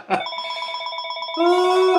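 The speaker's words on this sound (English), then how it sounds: "And the phone ringing too." An electronic telephone bell rings loudly and steadily with a fast warbling trill for the full two seconds, its tone shifting partway through, with no talk over it.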